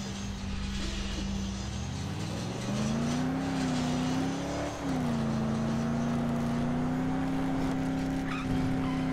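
A car drives in Dead Island, its engine droning steadily and rising in pitch as it accelerates, with a brief dip before holding a sustained, fairly loud revving tone throughout.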